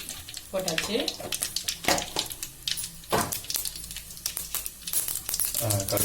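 Mustard seeds splutter and pop in hot oil for a goat intestine thokku, a steady sizzling crackle with sharp bursts throughout, close and fairly loud, while a voice talks intermittently.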